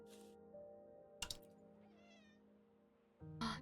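A cat meows in the video game Wuthering Waves, a short rising meow set over a steady game music bed, with a few sharper interface-like bursts around it; no talking.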